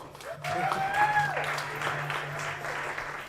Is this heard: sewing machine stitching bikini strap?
no